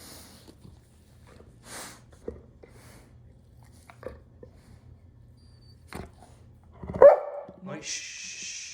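A puppy barking indoors, one sharp sudden yap followed by faint chewing and crunching sounds, with people talking nearby.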